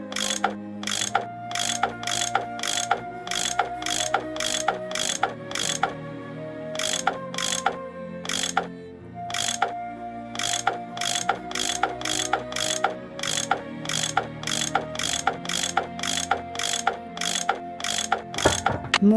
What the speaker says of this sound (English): That tool I saw in the caboose. I bet that's what you use to unscrew these bolts.